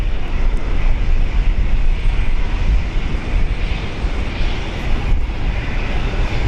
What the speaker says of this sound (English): Qatar Airways 777